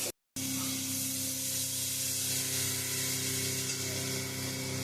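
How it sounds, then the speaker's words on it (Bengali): Mutton sizzles steadily while being braised in a pan as kosha, a dense, continuous frying hiss close by after a brief silent gap at the start, with no talking. "মাংসটা এখন কষিয়ে নিচ্ছে ভালো করে"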